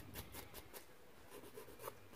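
Quiet, close-up rhythmic rubbing of a nail buffer on a natural fingernail, a series of soft raspy swipes in quick succession with a brief pause in the middle.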